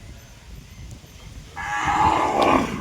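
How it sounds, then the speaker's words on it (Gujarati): A cow on a Gujarati farm moos once after a quiet start, a long loud call filling the second half as the animal approaches across the field. "તો ફાઇનલી મિત્રો આપણી ગાય વહી આવે છે"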